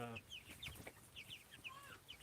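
Chickens clucking and chirping in a busy flock, a steady jumble of short calls from several birds, with faint low rumble underneath.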